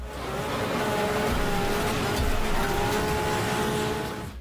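Race cars in the demolition racing video game Wreckfest roar with loud, continuous engine drone that rises and falls slightly as the cars drive. The sound holds steady for several seconds, and no distinct crash stands out.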